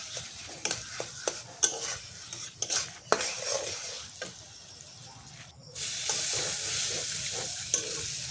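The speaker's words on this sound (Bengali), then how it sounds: "একটু নাড়াচাড়া করে ভালো করে নেব।" Spices with turmeric fry in a pan under repeated scraping stirs, sharp clicks of the spatula against metal over a hissing sizzle that swells louder and steadier in the second half.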